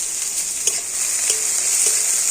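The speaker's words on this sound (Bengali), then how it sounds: "আর এবারও সব কিছু একটু ভেজে নেব" Onion and green chilies sizzle in hot oil in a pan, a steady bright hiss with a few soft stirring clicks, close and unbroken, with no talking.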